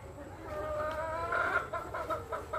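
A pure black Kadaknath rooster clucks softly a few times against a low background hum, on a farm in Muzaffarpur, Bihar.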